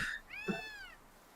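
A cat in Gravity Rush Remastered lets out one clear, drawn-out meow that rises and then falls, close and alone against a quiet background.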